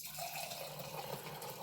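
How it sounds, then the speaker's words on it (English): Sainsbury's House Shiraz red wine pouring from a wine box tap into a glass, a steady close liquid gush running for the whole stretch with no talk over it. "Nothing like the sound of wine coming out of the box, is there?"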